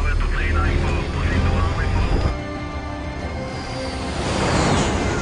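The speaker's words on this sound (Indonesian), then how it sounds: "pilot pesawat yang sebelumnya bersama Gary memutuskan untuk pergi" A commercial airplane departing in a zombie film, a loud sustained engine roar mixed with dramatic score and voices, swelling again toward the end.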